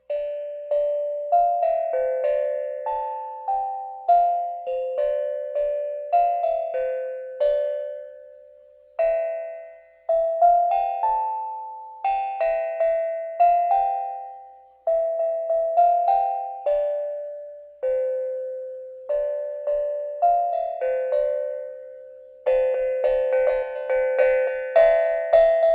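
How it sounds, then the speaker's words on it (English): Small bell played as a simple melody, clear ringing notes struck one after another in short phrases, each tone decaying before the next, with brief pauses between phrases and no speech. "That's my little tune on my bell today."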